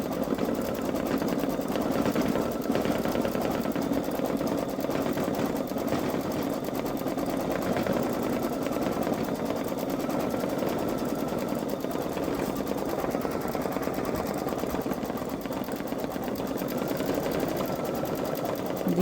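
A Baby Lock Solaris embroidery machine stitching out a design for a sweater: a steady fast mechanical whirring and needle chatter, continuous and close throughout, with no speech.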